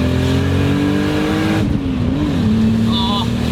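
A Toyota Supra MK3 with an inline-six engine pulls hard while driving. The steady, loud engine drone dips briefly at a gear change and then climbs again, heard from inside the car.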